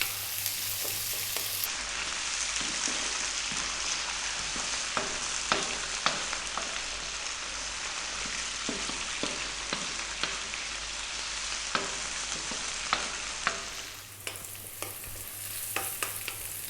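Celery and carrot stir-fry over high heat for Indian vegetable rice, a steady loud sizzle broken by frequent sharp stirring scrapes and tosses throughout.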